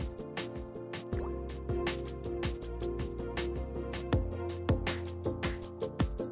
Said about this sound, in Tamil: இந்த காரை படிவம் போடப்பட்ட பிறகு அதன் மேல் நீருடன் கலந்த அடர்த்தியான சிமெண்ட் பாலை காரை காய்வதற்குள் ஊற்ற வேண்டும்.